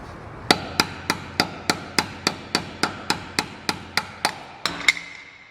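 Steady hammer blows on a screwdriver wedged under the swollen aluminium cap of a Ford wheel nut, about fourteen sharp metallic strikes in even rhythm, close and loud, with no talk.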